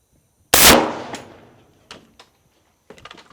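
A green-tip 5.56 rifle round fired at a steel anvil outdoors: one loud, sharp crack with a ringing decay, followed by a few faint clanks and rattles.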